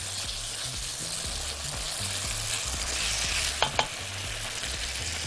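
A tomato sauce with peppers heating in a pan for moussaka gives a continuous loud sizzle and bubbling hiss, close up, broken by a couple of sharp utensil clinks near the end.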